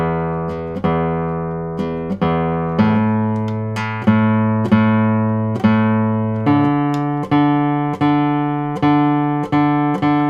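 A stringed instrument is tuned after fresh strings go on. One note at a time is plucked and rings out, a dozen or so notes in a steady rhythm, with the pitch stepping up partway through. The notes are close and loud, and nobody talks over them.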